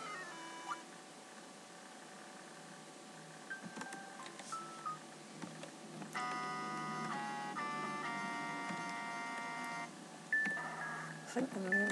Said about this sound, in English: I'm already up to the beeping sound